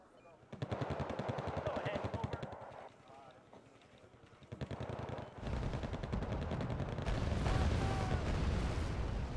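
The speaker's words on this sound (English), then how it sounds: "Look at that LAV actually using up all of its ammo." In a military video game, an LAV fires its machine gun in long rapid bursts, loud and close, with a pause in the middle and heavier fire and explosions building toward the end, while a voice talks underneath.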